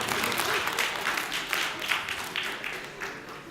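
A seminar audience at a talk on personal marketing gives a short burst of applause, a dense wash of many hands clapping that gradually fades over a few seconds.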